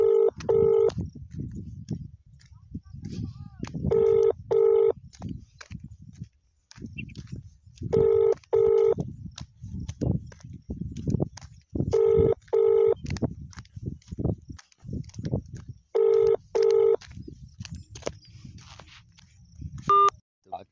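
Repeated paired telephone keypad tones, dialed in short bursts every few seconds over a steady background of low rumble and indistinct voices on a phone call.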